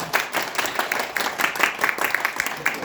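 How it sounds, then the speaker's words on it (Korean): A church congregation at a Korean worship service claps to welcome a visiting member. Brisk, uneven clapping from a small crowd sounds close and moderately loud. "잠깐 일어나 주시면 우리 박수로 안녕해 주시기 바랍니다."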